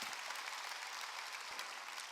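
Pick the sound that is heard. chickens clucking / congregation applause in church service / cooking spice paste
congregation applause in church service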